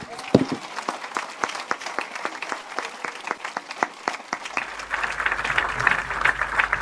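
A church congregation applauds with steady rhythmic clapping that builds and thickens toward the end, with a low hum of voices beneath.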